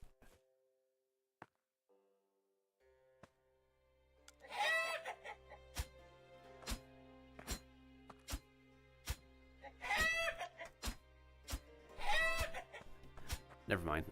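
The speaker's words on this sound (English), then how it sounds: "Why is this guy making chicken noises?" Chickens in the Past Fate video game cluck in several loud bursts over a rhythmic series of sharp knocks and a low hum, nearby and prominent.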